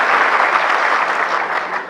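A seminar audience applauds, a steady dense wash of many hands clapping together at close range, loud and even throughout with no talk over it.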